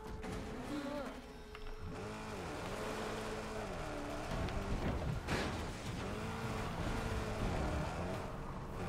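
A vehicle engine in Mad Max, droning and rising and falling in pitch in repeated revs, moderately loud and steady, with speech over it.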